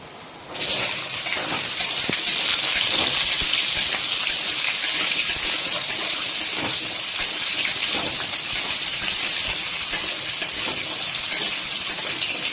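Chopped radish hits hot oil already crackling with panch phoron for a papaya, radish and brinjal curry; a dense, loud hiss starts abruptly after a moment of quiet and holds steady, with no talking.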